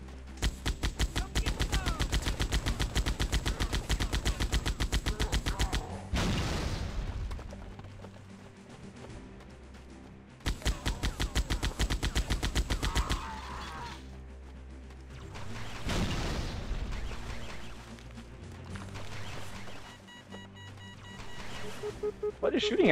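Rapid automatic gunfire and heavy booming explosions from the Halo CMT SPv2 video game, loud sustained bursts broken by pauses, with in-game combat noise throughout.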